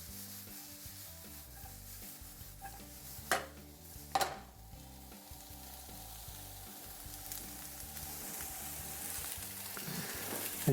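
Vegetables sizzle softly in a pan ahead of the mushrooms going in, a faint steady frying hiss with two sharp utensil knocks partway through.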